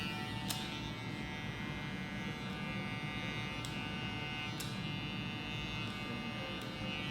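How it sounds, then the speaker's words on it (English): A Gamma+ Ergo electric hair clipper runs with a steady, low buzzing hum, quiet and close, broken by a few sharp clicks. "Second thing I think is really dope about this clipper is how quiet it is."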